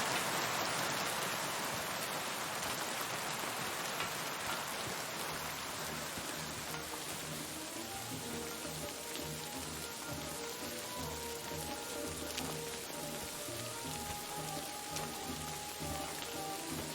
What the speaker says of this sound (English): Bloody rain. Rain again.